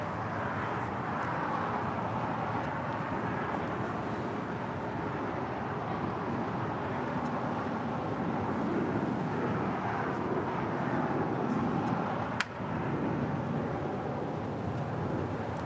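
An Airbus A321 airliner touches down at LAX, a broad, steady jet roar with wind rumble, fairly loud and sustained throughout with no talk over it.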